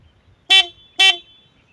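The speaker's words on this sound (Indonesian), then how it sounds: "Nah, untuk yang CBR suara klaksonnya seperti ini." Two short, bright honks from a Honda CBR 150R motorcycle horn, shrill and treble-heavy, evenly spaced about half a second apart and heard clearly over near silence.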